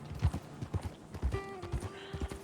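A horse's hooves clip-clop at a steady walking rhythm in the video game Red Dead Redemption 2. The hoofbeats are close and distinct, and a sustained tonal hum joins them partway through.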